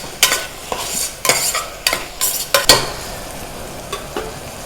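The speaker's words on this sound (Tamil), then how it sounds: "ஸோ நல்லா மசிச்சு விட்டு வதக்கி விட்டுருங்க." Tomatoes and onions are mashed and sautéed in a pan for chicken kuzhambu gravy, with a run of sharp, close scraping and mashing strokes over a soft sizzle.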